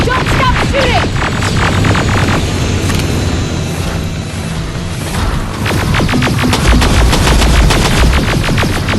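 Rapid automatic gunfire in the Terminator: Resistance video game, dense bursts of shots near and loud, with a brief lull in the middle before heavier firing resumes, over a chaotic battle backdrop.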